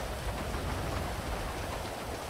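Rain falls steadily in the video game GTA, a quiet, even hiss of drops with a soft low rumble underneath, continuous and without voices.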